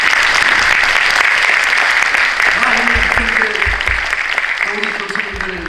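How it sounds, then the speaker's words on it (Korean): Sustained, dense audience applause fills a hall at a seminary's 120th anniversary ceremony, steady and loud throughout with a voice briefly speaking over it near the end. "우리 함께 영광의 박수를 한번 드리면 좋겠습니다."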